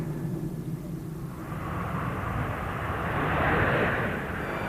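Tornado military jet aircraft from the Gulf War era passing low, a broad roaring engine rumble that swells steadily and peaks toward the end, heard alone without talk.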